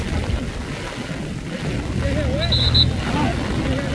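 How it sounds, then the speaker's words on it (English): Steady cold wind buffets the microphone in a low rumble at an outdoor Hmong memorial festival, with faint tonal chirps and some indistinct talk in the background. "This is how windy and how cold it is."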